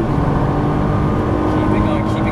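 A Nissan GT-R on a Las Vegas track roars loudly and continuously through a right-hand upshift, the engine's drone dense and unbroken at close range.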